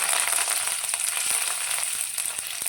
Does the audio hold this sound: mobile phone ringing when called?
no